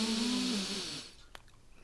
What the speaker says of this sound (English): Breathing in through the nostrils.